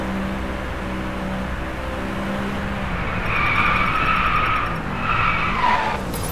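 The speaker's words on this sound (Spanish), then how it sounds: "Me encanta cómo suena este coche." An Audi race car in the Drive Club video game drones with a loud engine note, then its tires skid and squeal in two drawn-out bursts toward the end.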